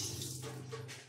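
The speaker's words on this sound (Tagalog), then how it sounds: "Masog ng tubig." Water runs steadily from a tap while siomai is being made, faint and continuous for a moment with no talking.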